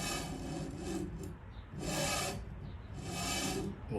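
A knife being sharpened on a TSProf K03 convex sharpening system: three loud, close, rasping strokes of stone across steel in a steady back-and-forth rhythm, each about a second long.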